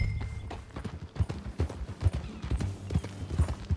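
Horse hooves clip-clopping in a steady, fairly quiet riding rhythm in the video game Red Dead Redemption 2, with faint ambient background and no talking.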